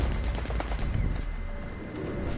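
Cannon fire in a video game, heard as a dense continuous barrage of booming, rumbling blasts with no pauses, loud and close throughout.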